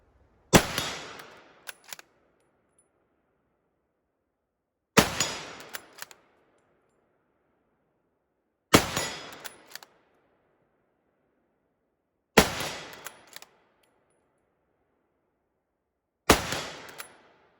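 A Springfield bolt-action rifle fires five rounds downrange outdoors, each a sharp, loud crack with a short decaying echo and a brief metallic bolt clack after it, spaced about four seconds apart.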